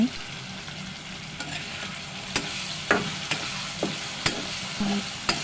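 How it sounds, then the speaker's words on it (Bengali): Tiger prawns stir-fried with chili powder and bay leaves in a spiced pan, a steady soft sizzle broken by sharp clinks and scrapes of a spoon against the pan at irregular intervals, close and moderately quiet. "মশলার সাথে নেড়ে চেড়ে ভালোভাবে কষিয়ে নিতে হবে"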